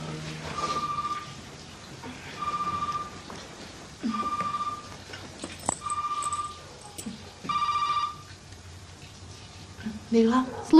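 A mobile phone rings in five evenly spaced electronic bursts, fairly close, with faint movement and background noise between rings.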